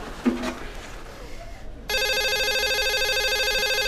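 A telephone starts ringing partway through with a loud, steady electronic trill that continues without pause, after a brief murmur of a voice in a quiet room.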